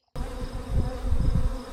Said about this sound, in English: You can see the bees are robbing on the truck.